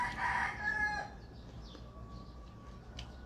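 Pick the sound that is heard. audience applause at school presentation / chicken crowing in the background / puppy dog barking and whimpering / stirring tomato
chicken crowing in the background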